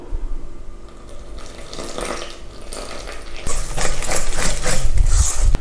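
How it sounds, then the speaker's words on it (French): Water is poured into fine buckwheat flour for a gluten-free seitan dough, giving a close, splashy trickle that grows louder and fuller in the second half. "J'ajoute l'eau."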